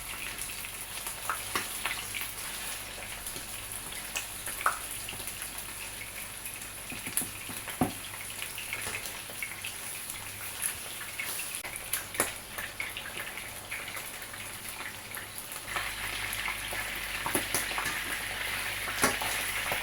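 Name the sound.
frying salt cod in a pan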